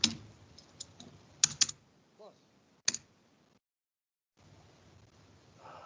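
Scattered keystrokes on a computer keyboard as numbers are entered, a few sharp clustered clicks with pauses between, fairly close, with faint voice sounds in the background and a brief silent gap near the end.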